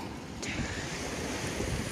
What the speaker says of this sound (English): the rock is getting slammed on by waves